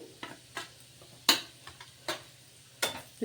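Chili powder and Malvani masala frying in oil in a pan for a spicy crab curry, heard as a series of sharp scraping stir strokes roughly every half second over a faint background.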